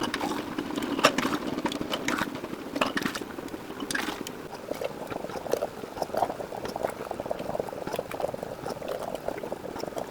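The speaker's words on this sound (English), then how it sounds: "Our sauce has been boiling and it looks fantastic" Homemade enchilada sauce bubbling in a pot at a steady boil, with continuous close popping and gurgling and occasional sharper bursts throughout.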